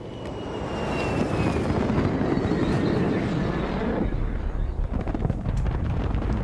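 A hostile helicopter in the Gray Zone Warfare shooter game roars in as a loud, close, rumbling engine wash that swells and holds, with a voice speaking over it.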